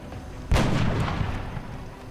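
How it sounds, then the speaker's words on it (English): A single heavy sniper rifle shot from the video game XCOM Enemy Within, a loud, sudden boom that rolls off into a lingering rumbling tail. "taking a shot with the sniper rifle."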